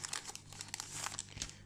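A One Piece OP-12 card booster pack is torn open by hand, giving a run of close crinkling and crackling foil wrapper sounds with a few sharper rips.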